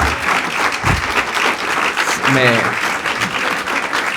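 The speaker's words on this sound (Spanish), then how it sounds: "Un aplauso porque" Applause breaks out from a crowd, dense clapping throughout with a voice briefly calling out over it.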